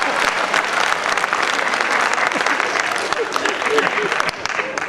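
An audience at a Hindi comic poetry gathering breaks into dense, sustained applause, a steady close wash of clapping that holds for the whole stretch.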